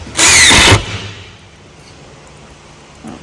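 A power drill drives a screw into a pre-drilled base cabinet during assembly, one loud whirring burst lasting about half a second, then quiet room tone with a faint knock at the end.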